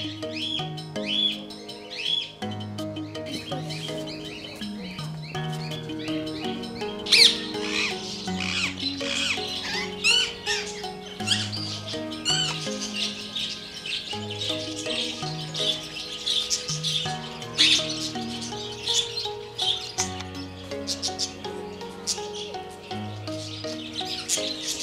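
Parakeets and other birds chirp and tweet continuously in a zoo aviary at Dehradun Zoo, many overlapping calls near and far forming a busy, bright chorus with no voices.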